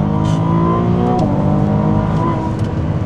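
A Ferrari 296 GTB hybrid with a turbocharged engine accelerates hard, its loud, steady rising engine note sustained throughout, with audible turbo discharge bursts punctuating the pull.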